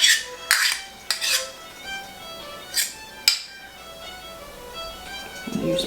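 A spatula scrapes food off the sides of a bowl in a home kitchen, giving a handful of sharp clinks and scraping strokes at an uneven pace, close up and loud, with no talking.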